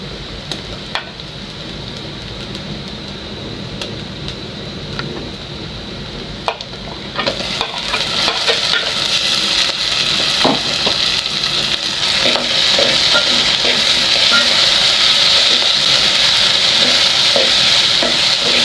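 Tomatoes fry and are stirred in a pan during home dinner cooking, a steady close sizzle that swells louder about halfway through as they hit the hot oil, with scraping stir strokes throughout and no talking.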